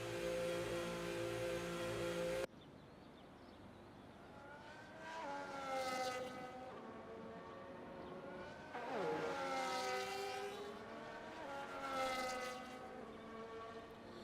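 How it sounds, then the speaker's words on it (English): Formula 1 car engines fire up and rev in the F1 25 game at Abu Dhabi, several high-pitched howls rising and falling in overlapping waves after a sudden cut from a steady drone, loud and close with no talk. "Now I hear the engines firing up now"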